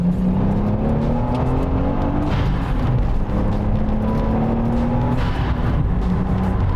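Nissan 300 ZX with a VG30 engine fitted with a new clutch, loud and close from inside the car, the engine climbing steadily in pitch under acceleration, with shifts partway through and again later, and no talking.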